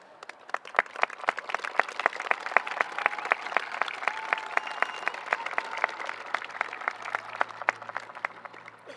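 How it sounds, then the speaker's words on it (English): High school graduates at a graduation ceremony applauding, a crowd of crisp distinct claps in a steady patter, moderately loud and continuing throughout with faint crowd noise beneath. "give a round of applause to those people, as they deserve it so very much"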